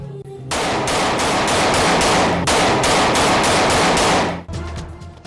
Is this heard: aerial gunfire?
yes